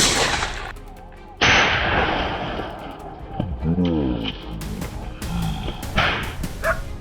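Gunfire rings out during a wild boar hunt, sharp loud reports at the start and again near the end, with a dog barking and yelping in between and people talking.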